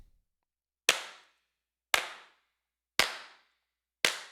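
Four loosely timed hand claps made in Hand Clap Studio for a dance track, each a crisp bright snap with a brief tail, evenly spaced about a second apart in otherwise silent air.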